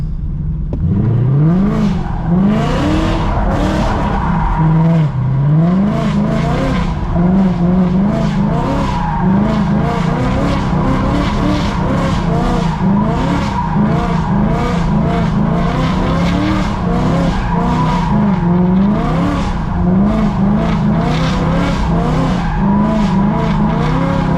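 A car drifting, with loud, sustained tire squeal that rises and falls over the engine's constant roar and revving, close and continuous throughout.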